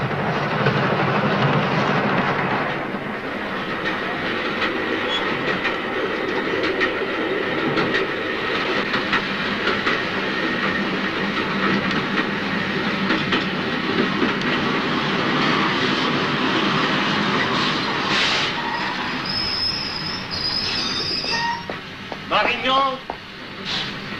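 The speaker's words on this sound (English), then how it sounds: "The train is just leaving." A train pulls out of a station in a 1960 film, a loud sustained rumble of rolling carriages with a rhythmic clickety-clack that thins toward the end, where a few brief voices and whistle-like tones cut through.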